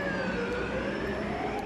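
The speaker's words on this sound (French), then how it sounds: "Ça c'est les pompiers qui viennent pour ma bibliothèque." A fire engine's siren wails steadily at a moderate distance. Its rising and falling tones go on without a break against faint street background.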